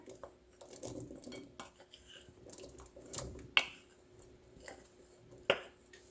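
Cooked chicken goes into a pan of butter and fresh cream for butter chicken, with soft shuffling and stirring noise broken by two sharp metallic clinks of utensil against pan.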